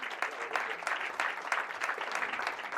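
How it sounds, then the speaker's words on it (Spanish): Warm applause for Pedro at an addiction treatment talk, a sustained rhythmic patter of many hands clapping at moderate loudness, with no speech over it. "un aplauso para Pedro"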